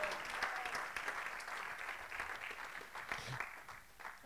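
A church congregation applauds and cheers in praise, a steady, fairly faint wash of clapping that runs the whole time without pause.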